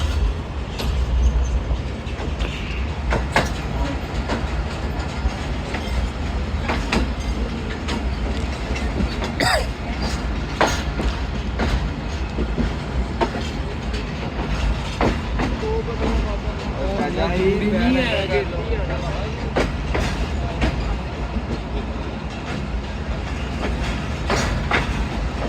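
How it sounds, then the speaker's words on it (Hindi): Rehman Baba Express train rolling on rails at steady speed, a continuous loud rumble with rhythmic clickety-clack of wheels over rail joints and a brief metallic wheel squeal; faint voices occasionally come through beneath the noise. "फैसलाबाद पहुंच गई जी हमारी 48 रहमान बाबा एक्सप्रेस 40 मिनट डिले के साथ"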